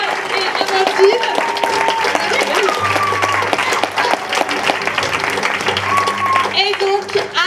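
Dense, continuous audience applause at a Christmas show in a theatre, loud and steady throughout, with a musical tone and some cheering mixed in.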